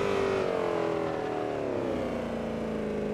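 A car drifts around an obstacle while clipping a lined section, its engine holding a steady, loud droning whine with a slowly falling pitch and no pauses.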